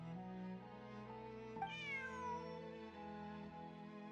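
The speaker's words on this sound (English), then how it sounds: "Bonnie is Pierre's cat." A cat in the video game Genshin Impact meows once, a drawn-out rising then falling call heard clearly, alone over a soft sustained musical backdrop.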